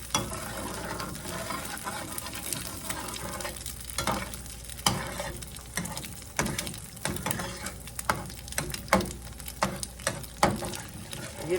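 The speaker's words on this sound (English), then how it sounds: "stir them around in here and cook them just like a scrambled egg in that oil" Eggs scramble in hot oil for pork fried rice, a continuous crackling sizzle broken by frequent scraping clicks of a utensil stirring against the pan, close up with no talking.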